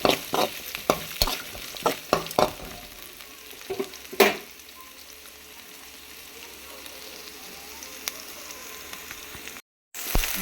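Onion and chilli sautéing in a pan, with a steady frying sizzle broken by a quick run of sharp spatula knocks and scrapes early on, then a quieter continuous sizzle, close up and with no voices.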